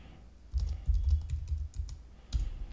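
Typing a command on a computer keyboard while installing Laravel 5.5, with close, irregular clusters of key clicks in quick bursts and a short pause before a final flurry; no talking.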